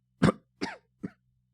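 Three short coughs close to the microphone during a church service sermon, each quieter than the last, with brief pauses between them.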